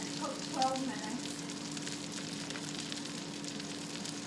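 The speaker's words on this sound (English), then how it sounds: "Hopefully you can still hear me over all that sizzling." Pork chops pan-frying give off a soft, steady sizzle with faint crackles, low in level, while a few brief higher tones sound early on.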